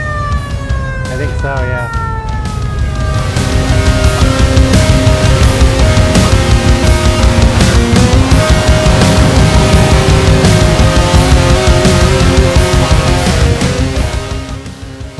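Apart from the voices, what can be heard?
vintage ambulance siren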